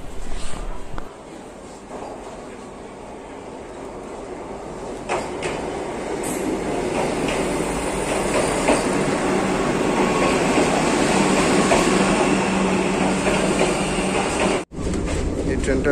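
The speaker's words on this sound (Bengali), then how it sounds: "আমাদের ট্রেন চলে এসছে।" A train pulls into Bolpur Santiniketan station in the morning with a steady, loud rumble of wagons and rail noise that builds and holds, with people talking on the platform.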